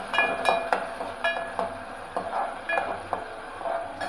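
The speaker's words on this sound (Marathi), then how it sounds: "टोमॅटो तेलात परतायचा आहे." Tomato frying in oil in a pan, a steady soft sizzle broken by repeated clinks and scrapes of a spoon stirring against the metal, close and fairly loud.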